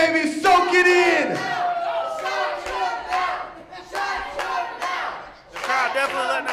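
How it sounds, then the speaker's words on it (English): A wrestling crowd at an IZW tag team event shouts and jeers loudly and continuously, with whoops, bellowed calls and scattered clapping rising and falling throughout. "The crowd definitely letting them know how they feel about it."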